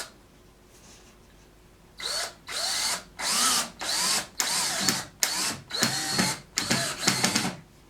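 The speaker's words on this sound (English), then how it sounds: "make sure that you're tight against the ends before you screw this home" A power drill drives screws into wood during the assembly of a model railroad module, eight short loud whirring bursts of about half a second each, close by and separated by brief pauses, with no talking.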